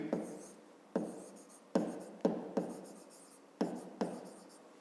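A pen scratches across paper while working a fifth-grade math exercise, with repeated short strokes and taps in an uneven rhythm, close and distinct.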